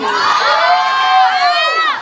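A crowd outside a busy Filipino pares eatery shouts and cheers together in a loud, sustained burst of overlapping high-pitched voices that lasts about two seconds.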